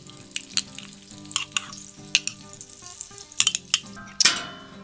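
Beef tallow sizzles on a preheated griddle before Oklahoma onion burgers go on, with crackling pops and sputters throughout and a sharp, loud burst of spattering near the end. No one speaks.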